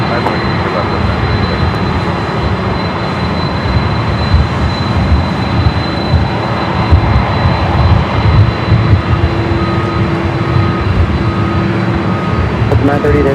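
Air Force One jet taking off from runway 24 left at LAX, a loud sustained engine roar with a steady whining tone, with radio chatter over it.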